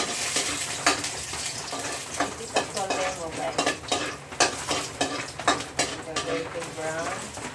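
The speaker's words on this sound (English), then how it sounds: "Stir fry the garlic until golden brown." Garlic stir-frying in a pan, a close, steady sizzle broken by frequent rhythmic scrapes and clinks of the utensil against the metal.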